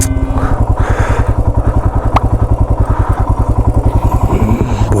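Motorcycle stuck and skidding on black ice on a snowy mountain road, its engine loud and close with a rapid, steady chugging throb that rises and falls slightly as the rider struggles for grip.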